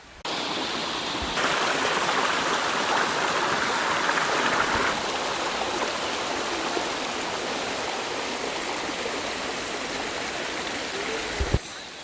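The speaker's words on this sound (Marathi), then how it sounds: "खळखळ वाहणारा झरा नजरेस पडतो" A gurgling stream near Sarde dam in Uran, flowing water rushing steadily and loudly close by, with a faint voice briefly heard near the end.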